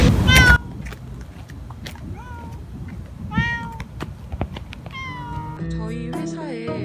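A cat meows repeatedly near a company building at night among trees and rocks, a string of drawn-out cries at varied pitch with pauses between, fairly close and clear over a faint background.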